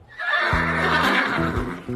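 A horse gives one loud, close whinny, its shrill voice wavering and breaking in pitch for about two seconds.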